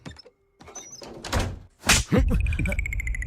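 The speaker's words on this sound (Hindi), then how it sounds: "मैं अंदर ही रहूंगी दरवाजा बंद करके" A house door being closed in a Hindi-dubbed film scene: a couple of dull wooden thunks and a firmer slam, with soft movement sounds and faint voices around them.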